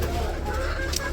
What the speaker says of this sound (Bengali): তো মুরগিরে খাবার দিতেছে।